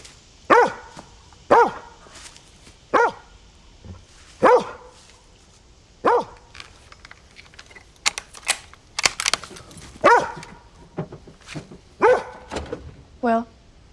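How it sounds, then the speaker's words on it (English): Dog barking in a film, a series of sharp, evenly spaced barks close by, alternating with people talking and brief tense exchanges between them. "always accompanied by their dog"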